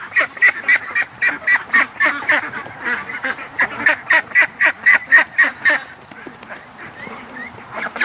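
A flock of Muscovy ducks at a creek gives a rapid run of loud, close, raspy honking calls in a steady pulsing rhythm, tapering to softer calls at the end.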